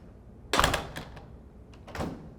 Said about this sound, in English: So when I close this door and I lock it